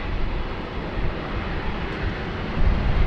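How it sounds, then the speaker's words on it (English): An Air China A330-300 airliner taxis at a rainy Sydney Airport, heard as a continuous broad roar and rumble of engine noise that swells slightly near the end, with no talk. "in just a moment we have an Air China A330 300"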